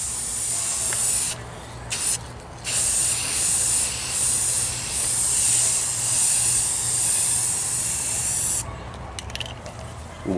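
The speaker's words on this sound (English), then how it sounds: "I'm going to use this rattle can right here. What I'm going to do is I'm going to lay a light coat on there first." Aerosol rattle can spraying a light clear coat onto a car fender: a loud, steady hiss that runs almost continuously, with brief pauses between passes near the start and end.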